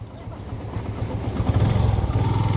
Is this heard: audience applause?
no